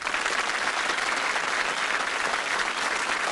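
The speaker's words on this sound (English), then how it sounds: "Give her a clap." Studio audience on a British quiz show clapping for departing contestant Christine, a thick, uniform burst of applause that holds loud and steady throughout.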